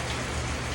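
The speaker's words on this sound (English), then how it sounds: "it's pouring down rain" Heavy rain pouring down outside a garage or shelter, a dense, loud, steady hiss of drops with no pauses and no voices.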